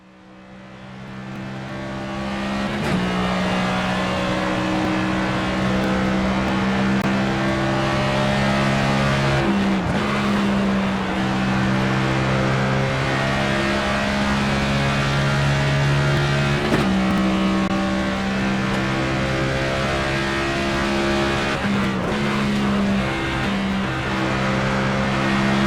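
Race car engines from the NASCAR 25 video game on PS5 drone loudly and continuously, with several harmonic gear shifts and pitch changes as the cars run laps, and no talk over them.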